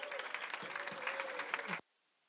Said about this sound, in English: So if everybody give him a round of applause